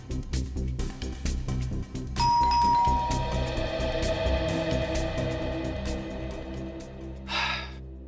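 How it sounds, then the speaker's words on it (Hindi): Doorbell ringing at a house door in a TV crime drama: a clear electronic chime sounds once, its tone lingering over a background of room noise and soft breathing. "आप एक बार और घंटी बजाने का कष्ट करेंगे?"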